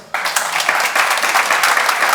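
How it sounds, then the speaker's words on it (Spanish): Audience applause breaks out at a political summit panel on transatlantic freedom, a dense wash of many hands clapping that starts abruptly and holds steady and loud throughout. "con otro aplauso, por favor"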